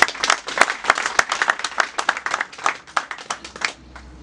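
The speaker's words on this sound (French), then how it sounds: "Je veux qu'on applaudisse encore pour Germaine." An audience at a municipal project presentation in Akanda breaks into lively applause, a loud burst of many hands clapping at a brisk uneven rhythm that stops abruptly near the end.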